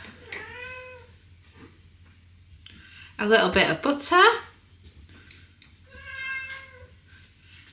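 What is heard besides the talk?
pet cat meowing in kitchen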